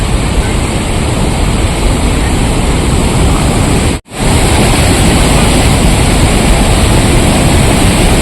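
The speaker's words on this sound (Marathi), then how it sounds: "गाईज पाण्याच्या आवाजाने माझा आवाज क्लिअर नसन येत" Water rushing through Majalgaon dam, a loud, steady broadband roar that fills the whole clip, cutting out for a split second in the middle before resuming unchanged.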